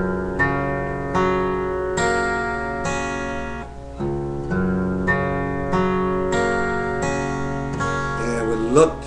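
Guitar tuned to open G, all strings strummed together as a ringing open chord, repeated about nine times in an even rhythm with sustained tones between strums.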